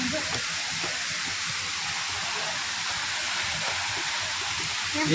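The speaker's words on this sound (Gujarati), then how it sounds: "અહીંયા પાણી પડે" Waterfall at the Gomukh temple in Junagadh, pouring in a steady, dense roar of rushing water that stays nearby and even throughout, with faint voices underneath.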